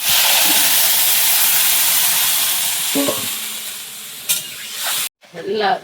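Cauliflower frying in a pan sizzles loudly and steadily, then water is poured in with a sharp burst of hiss and spluttering, followed by a brief pause and more bubbling sizzle up close.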